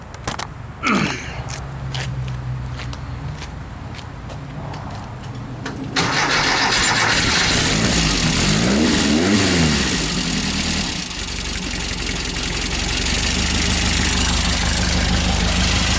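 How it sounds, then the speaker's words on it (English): A few clicks, then an engine cranks and catches, running slightly rich. It settles into a loud, steady rumbling idle close by. "I'll fire this baby up"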